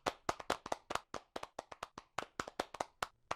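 Applause after a virtual reality conference talk comes as a few sparse, sharp hand claps in an irregular rhythm, close and clear against a quiet room.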